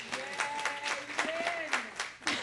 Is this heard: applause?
yes